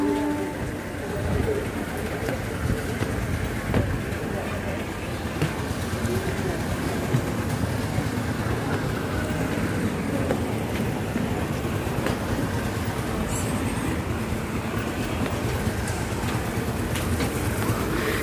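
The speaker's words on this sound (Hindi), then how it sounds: "और ये ट्रेन जा रही है अब विरार" A commuter train pulls out of Umargam station bound for Virar, its dense rumbling roll and rail clatter continuous and fairly loud nearby for the whole stretch, with station ambience around it.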